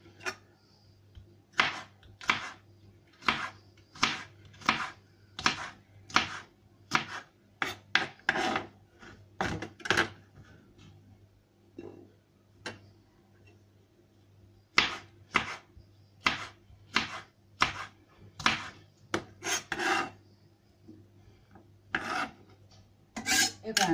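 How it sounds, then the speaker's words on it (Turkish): Knife chopping hot peppers onto sweet peppers on a cutting board, a steady series of crisp, close chops in quick bursts with short pauses between them. "Acı biberleri de kesip tatlı biberlerin üzerine atıyorum."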